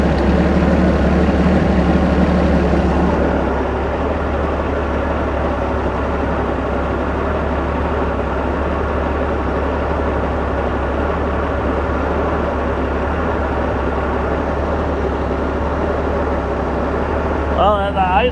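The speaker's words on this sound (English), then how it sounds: "And the tachometer is idling at about 650 RPM." A 1970s Rinker boat's Mercruiser 165hp engine idles steadily at about 650 RPM, a constant low rumble throughout, loud and close, with a brief rise early on and no talk over it.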